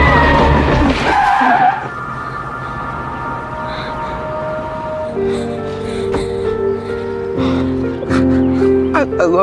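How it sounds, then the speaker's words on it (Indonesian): A car speeds in and its tires skid with a loud, drawn-out squeal up close, followed by dramatic tonal music as voices speak over the scene. "Terlihat sebuah mobil melaju kencang ke arah Annette."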